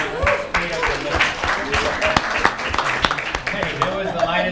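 Light, scattered clapping from a leadership-event audience in Maui, Hawaii, a steady patter of hand claps with talk and crowd murmur mixed underneath.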